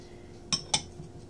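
A utensil clinks twice against a bowl while fuljuri pitha batter is mixed with egg and lukewarm milk, two quick bright chinks close together over a quiet room.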